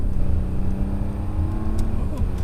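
A 2019 Audi A8 L with a 3.0T engine, driven in dynamic mode with paddle shifters, gives a loud, steady engine drone from inside the cabin, its pitch climbing and then dipping once near the end as a gear changes.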